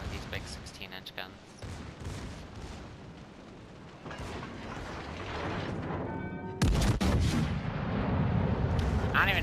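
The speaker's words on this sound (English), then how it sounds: "now I'm just going to overpen the absolute living hell out of this Atlanta with these big 16-inch guns" 16-inch naval guns fire in World of Warships, deep rumbling booms with a sharp loud blast near the end, under continuous talking.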